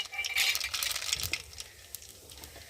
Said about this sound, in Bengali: তেলটা ভীষণ গরম হয়ে গেছে আর এখন আমি মাছটাকে ফোড়ন দেব তো দেখো কালো জিরে ফোড়ন দিলাম